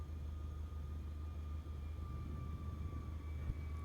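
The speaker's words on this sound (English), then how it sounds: "Hello, little generic plane." A generic propeller plane in Microsoft Flight Simulator near Washington, DC, giving a steady, droning engine hum with a constant tonal whine that holds level throughout, with no talking.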